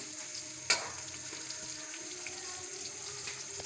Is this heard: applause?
no